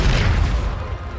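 Bombarda spell blasts from the Hogwarts Legacy video game, a loud, dense low boom that fills the whole moment and rumbles on steadily without a break.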